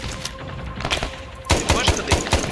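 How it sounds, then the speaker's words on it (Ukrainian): Gunfire in the Vietnam-era video game Arma 3 S.O.G. Prairie Fire: scattered shots at first, then a loud burst of rapid automatic fire with sharp repeated cracks, a voice briefly heard alongside. "нам стріляють"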